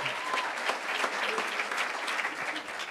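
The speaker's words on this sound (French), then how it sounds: "Tu peux acclamer pour les cuisinières de l'église." Applause from a church audience cheering the church cooks, steady broadband clapping filling the room for about three seconds, fairly loud and continuous with no pauses.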